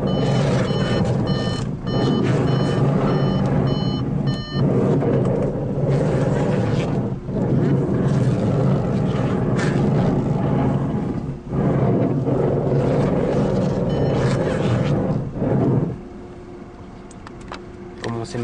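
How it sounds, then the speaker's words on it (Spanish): Audi A4 Trendy Plus 2013 with a damaged steering box, heard as a steady engine and mechanical drone that carries on for most of the stretch, with repeated high electronic beeps that sound like a warning chime, then quieter idle near the end. "Alcanzamos ahí a oír cómo se escucha la dirección."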